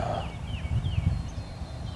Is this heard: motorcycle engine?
no